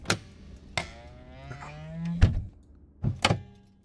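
The cabin door of a Cirrus Vision Jet closes in Microsoft Flight Simulator, giving a mechanical whirring motion that ends in sharp clunks and clicks as the latch seats, heard up close.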